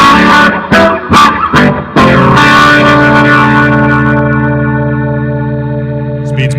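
A distorted electric guitar through a Leslie rotary speaker effect plays a few choppy chords, then a long swirling, warbling, organ-like sustained tone that slowly fades.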